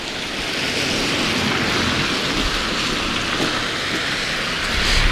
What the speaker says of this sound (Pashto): دغه د کرغې د بند اوبه دي